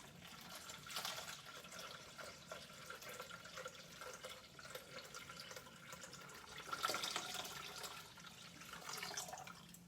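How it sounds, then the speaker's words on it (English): Cold filtered water pours onto a weighing scale in a kitchen while making a chopped veggie salad, giving a soft continuous splashing and trickling that swells briefly partway through. "you can see it's going to weigh it as I put the water in"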